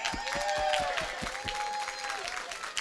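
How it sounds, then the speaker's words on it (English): An indoor theater audience claps, with sharp individual hand claps standing out near the start before the applause thins to a scattered patter. "I also just want to give a big round of applause to WTOB."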